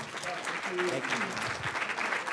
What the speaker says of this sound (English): So I'm going to give a round of applause for Donald as he welcomes up all the panelists today.